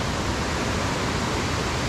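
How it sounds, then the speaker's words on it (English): A waterfall pours into a small pool and then spills over a cascade, making a dense, steady broadband roar that holds constant at close range with no voices. "You have a waterfall, it goes through a little pool, and then comes into a kind of a cascade fall."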